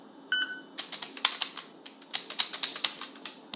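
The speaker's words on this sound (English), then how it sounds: "Okay, so it's being typed in." Rapid, light clicking keystrokes on a computer keyboard, close and fairly quiet, in an irregular run of taps with no talking, while an email address is entered.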